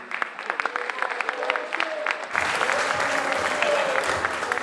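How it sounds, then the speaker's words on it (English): Convocation audience applauding for class advisors coming on stage, clapping building and thickening partway through into a full, sustained round. "So give them a round of applause, please."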